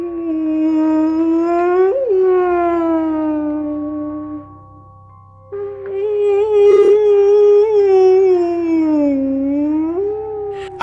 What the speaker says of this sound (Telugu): ఒక కుక్క ఉన్నట్టుండిగా ఏడవటం మొదలెట్టింది